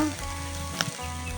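A paste of ground chilli and cumin fries in a pan with a steady, soft sizzle and a brief clink partway through. The frying is quiet and continuous, and no one speaks over it.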